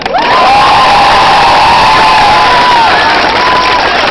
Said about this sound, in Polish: I proszę klaskać teraz dla Julki.